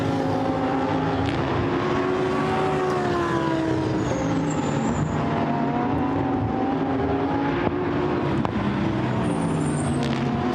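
A Lamborghini Super Trofeo race car accelerates at Silverstone, its engine note climbing in rising harmonic sweeps, loud and sustained, with other racing engines and circuit noise mixed behind it.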